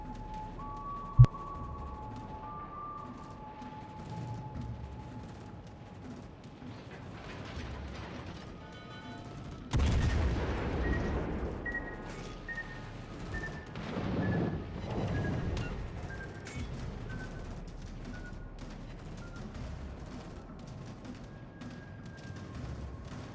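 Naval artillery in World of Warships Legends: a sharp report early on, then a heavy booming salvo about ten seconds in, followed by rumbling impacts and mechanical game sounds, fairly quiet overall.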